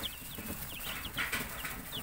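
Chickens cluck softly in a mixed backyard flock kept with ducks and a turkey, a few short faint calls scattered over a quiet outdoor background.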